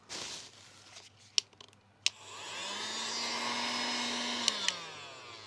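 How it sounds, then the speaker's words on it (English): A few clicks and knocks, then the small motor of a cheap handheld vacuum cleaner whirs up into a steady high-pitched hum that runs on for several seconds, ending with light clicks. "This is the NOK7 vacuum cleaner"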